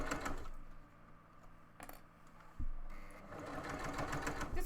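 A sewing machine stitching faux fur for fennec fox ears runs in close, rapid mechanical bursts with short pauses and speed changes between runs.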